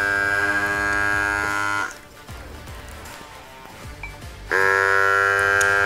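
GRABO PRO electric vacuum lifter pump droning with a loud, buzzy whine that cuts off once the seal is made, leaving quiet handling taps, then starts up again in a final burst.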